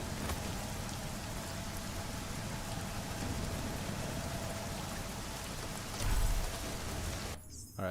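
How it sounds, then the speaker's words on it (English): Steady rain in the video game Deus Ex: Mankind Divided, a dense, even hiss of falling drops that fills the whole stretch, with a brief low thump near the end before the sound cuts out. "Suspicious sounds in the rain."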